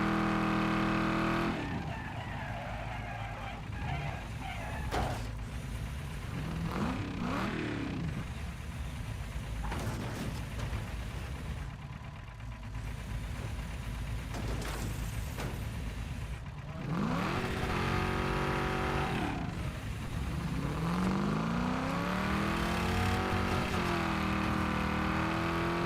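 A car engine in the racing game Wreckfest 2, running low on coolant, revs hard and continuously with repeated rising and falling pitch sweeps. It is loud and steady throughout, with no talking.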